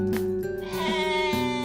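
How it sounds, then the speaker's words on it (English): Sheep bleating inside the video game OneShot, a single wavering, nasal bleat lasting over a second, loud and close with no talk over it. "Oh, thank God it's not the demonic sheep."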